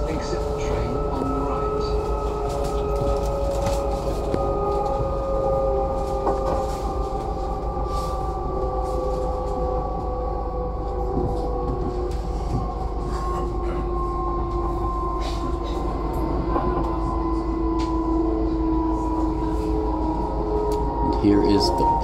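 Heading toward Pasing station in Munich, a train rolls along with a steady rumble and a sustained electric motor whine, and announcements and voices are heard over the running noise throughout.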